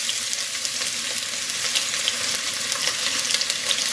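Ingredients hit hot avocado oil in a pan for a Mexican shrimp stew, giving a loud, steady, dense sizzle with crackle and spatter that runs unbroken, with no talking.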